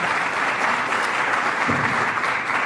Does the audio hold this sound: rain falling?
no